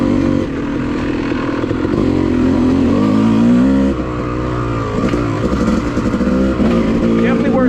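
A Yamaha YZ250 two-stroke dirt bike on an off-road trail in South Carolina lugs at low revs, a loud continuous engine drone with wavering pitch and small throttle changes, close to the rider.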